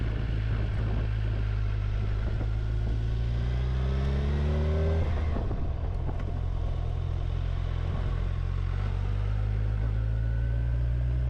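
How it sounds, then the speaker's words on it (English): Engine of a 2025 Kawasaki Ninja 1100SX motorcycle revving up, its low steady drone rising in pitch around the middle, then settling back to a continuous rumble, close and loud with no talking. "And I love the sound of that bike."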